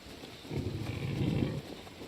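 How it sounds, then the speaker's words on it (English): A low, rumbling grunt from the demon pigs in the video game Gord, about one second long and moderately loud, rising out of a steady ambient game background. "Oh, pigs."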